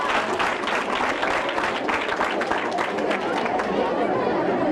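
Audience clapping at a talk-show style quiz event, a dense continuous burst of applause mixed with crowd chatter.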